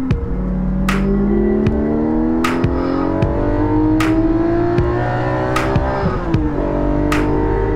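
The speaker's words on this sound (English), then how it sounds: "We would do baby courtesy revs in this neighborhood" Porsche 718 GT4 fitted with a Soul Performance rear exhaust section, engine held near and loud with steady revving that climbs gradually in pitch, while sharp clicks or ticks punctuate it at regular intervals.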